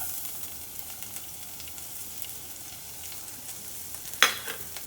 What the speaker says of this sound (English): I'm going to brown the garlic a little bit.